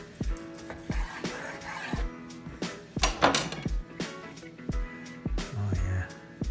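Knife carving a smoked pork roast on a board, with repeated soft cuts and light clinks of cutlery and dishes, close and fairly quiet, in a kitchen with no one talking.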